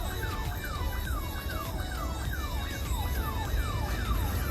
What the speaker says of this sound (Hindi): ट्रैफिक के अंदर एक एम्बुलेंस भी है, उसको निकालने की कोशिश हो रही है।